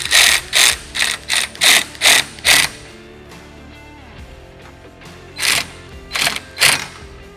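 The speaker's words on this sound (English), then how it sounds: "Let's take a 10mm socket and fully tighten it." A 10mm socket ratchet tightens a wiper arm nut on a Kawasaki Teryx KRX 1000. It gives seven quick, loud clicking bursts up close, a pause, and then three more bursts.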